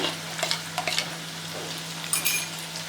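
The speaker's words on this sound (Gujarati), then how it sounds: "અને હવે આપણે ઓનિયનને પણ શાંતળી લઈએ" Chopped onions sautéing over medium gas heat in a pan for Bombay-style pav bhaji, with fresh coriander already added; a soft steady sizzle runs throughout with a few light stirring scrapes and clinks, no talking.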